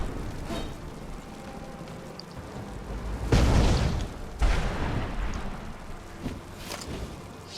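A magic attack in Skyrim with an Uchiha mod fires with a heavy booming blast, followed by a second burst, over a low rumbling game background.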